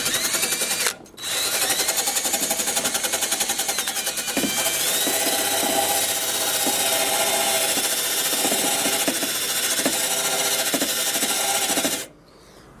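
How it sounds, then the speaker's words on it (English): A small wire wheel on a power drill whirs steadily against bare metal on a Ford F150, a loud high-pitched spinning scrape with a brief dip early on, then cutting off at the end. "So we gotta clean that area. Yeah, so we're gonna grab our little wire wheel."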